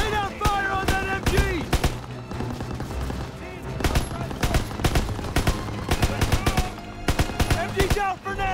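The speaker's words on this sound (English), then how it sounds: "Lay down fire on that MG!" Bursts of machine gun fire rattle through a World War II battle in Call of Duty, rapid close volleys in repeated clusters with sharp gaps, under shouted commands between combatants.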